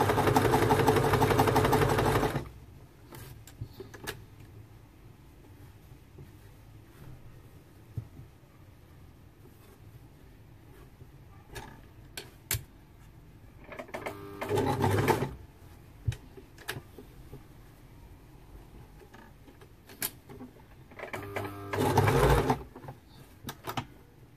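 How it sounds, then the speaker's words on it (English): A sewing machine straight-stitches a fabric face mask in short bursts: a loud run at the start, then quiet stretches broken by brief clicks and two more short stitching runs. "The straight stitching is one of the easiest stitches."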